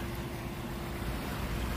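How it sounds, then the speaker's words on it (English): A small waterfall spills into a pond at Lincoln Park Zoo in Chicago, giving a steady, soft broadband rush of falling water, continuous and fairly quiet with no talk. "And look how it has this little waterfall."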